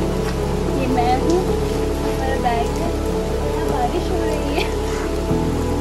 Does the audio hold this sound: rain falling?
yes